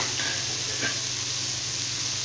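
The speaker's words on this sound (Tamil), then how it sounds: "காய் வந்து நல்லா எண்ணெயிலே வதக்கிடணும்" Snake gourd pieces sautéing in hot oil with tomato and onion for sambar, giving a steady, close sizzle and frying hiss throughout with a faint stir or two, no voices.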